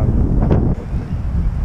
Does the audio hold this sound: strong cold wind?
yes